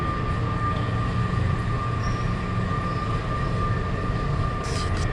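A train arriving at a station platform gives a steady, loud rumble of rail cars with faint wheel squeal. It runs continuously for several seconds with no talk.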